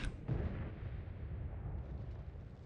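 Heavy artillery fire in a video game, a sharp blast at the start followed by a long, dense rumbling roar that keeps booming loudly throughout.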